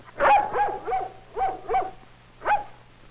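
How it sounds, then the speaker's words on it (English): A cartoon dog barks while chasing a rabbit, six sharp yapping barks in an uneven run, close and clear with no talk over them. "And the dog was getting closer."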